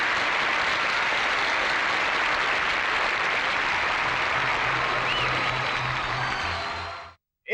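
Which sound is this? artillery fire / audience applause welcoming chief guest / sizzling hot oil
audience applause welcoming chief guest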